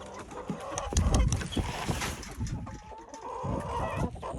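Chickens and a rooster clucking in a courtyard, with a few sharper squawks and steady cackling from several birds nearby, some rustling underneath, and no voices.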